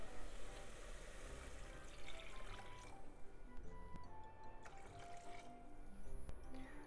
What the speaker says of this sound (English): 800 milliliter of water.